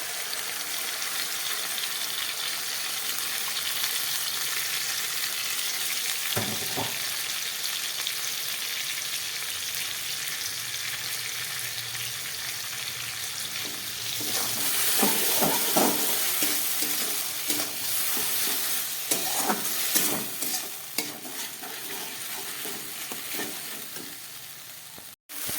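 Ground spice paste for a spicy bele fish curry fries in a pan and is stirred hard. A close, constant sizzle mixes with repeated scraping strokes of a spatula that grow busier toward the end, with no voices.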